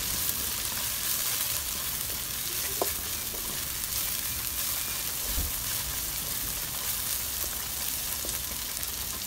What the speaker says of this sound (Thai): เดี๋ยวเราจะเจียวให้พริกกับกระเทียมนะคะหอมส่งกลิ่นขึ้นมาเลยค่ะ